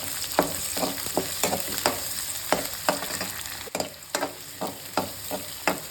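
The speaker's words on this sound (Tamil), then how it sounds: "ஒரு பெரிய வெங்காயம் சின்னதாக கட் பண்ணியிருக்கிறேன், அதுவும் போட்டு போகிறேன்." A large onion, chopped small, fries in a pan of oil for carrot rice, giving a close, steady sizzle broken by frequent sharp scrapes and taps from stirring, with no one speaking.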